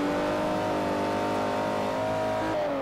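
Old BMW car engine in the Forza Horizon racing game, a steady sustained drone with rising and falling harmonics, like an engine holding revs while driving, close and continuous throughout.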